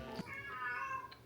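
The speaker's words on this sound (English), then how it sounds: "That's my cat." A house cat gives a single drawn-out meow, a soft, close, slightly rising cry lasting about a second, with a faint sound just before it.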